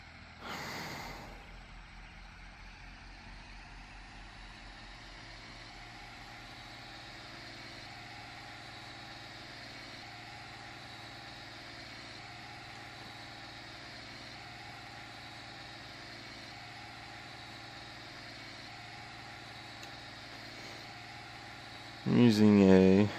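A combine harvester engine in the Farming Simulator 2013 video game runs while shelling corn, a steady droning hum with a few harmonic tones held throughout, and a short louder burst near the end.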